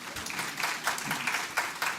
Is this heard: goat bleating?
no